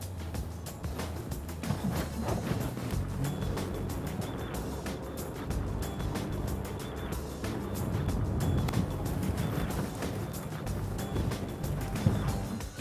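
A 2011 Jeep Grand Cherokee drives a quick loop on beach sand at Belmont Shore, California, with steady engine and road rumble, tire churn and wind buffeting throughout, rising slightly toward the end.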